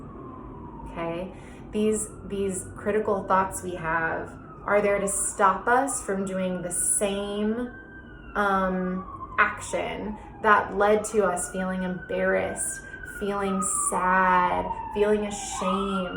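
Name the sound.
emergency siren passing outside an apartment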